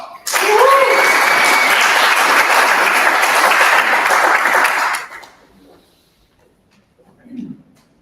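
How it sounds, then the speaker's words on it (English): A crowd at a live startup demo night claps steadily for about five seconds, dense and loud, then the applause fades out into near silence with a brief murmur at the end. "It's a round of applause."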